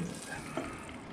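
Walleye fillets sizzle in butter on a Blackstone griddle, a soft, steady frying hiss at low volume with a faint stirring clink midway.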